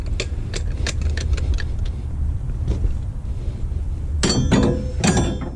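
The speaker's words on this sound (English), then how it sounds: "I use these ginormous channel locks to grab the bolts on the pulley." Channel-lock pliers clinking against the water-pump pulley bolts on a Chevy Trailblazer engine, giving a series of sharp metallic taps and clinks, with a cluster near the end, over a steady low background rumble.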